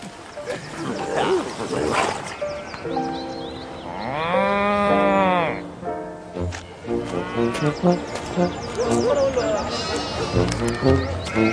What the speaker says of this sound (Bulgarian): Кравата.